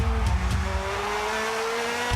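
DTM race cars cornering on the Valencia circuit in second gear, a loud steady engine drone with a slowly rising pitch and a brief scrape early on, heard up close without any voices.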